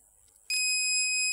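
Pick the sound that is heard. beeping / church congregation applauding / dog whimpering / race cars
beeping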